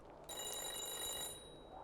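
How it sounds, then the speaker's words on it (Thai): A telephone rings from a phone booth in a horror video game, a steady electronic bell tone that starts abruptly and continues for most of the moment, fairly close and clear with no talk. "Is the ringing coming from the phone booth"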